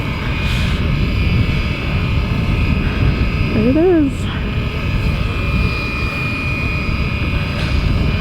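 An expensive beginner RC helicopter flying and hovering, steady loud rotor and motor whine held throughout, with a brief rising and falling pitch sweep in the middle and a voice speaking briefly over it.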